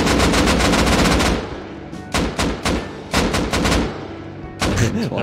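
Heavy automatic gunfire in the survival game Rust: a long sustained burst, then several shorter rapid bursts separated by brief pauses, loud and close.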